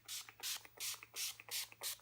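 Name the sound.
squirt of setting spray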